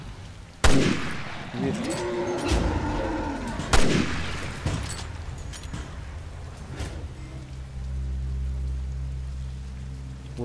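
Two sharp sniper rifle shots crack out in Resident Evil: Revelations 2, a few seconds apart, over a rumbling, rain-like game ambience, with a short spoken word near the start.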